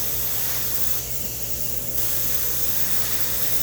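Spray paint hissing from an aerosol can onto rusted, rotted-through metal, a loud close continuous spray with a brief softer dip near the middle before resuming at full strength.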